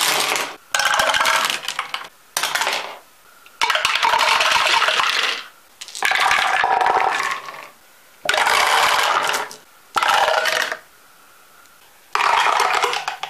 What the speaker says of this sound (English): And my favourite method of rolling dice is...